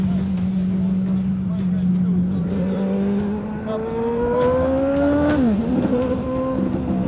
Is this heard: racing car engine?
yes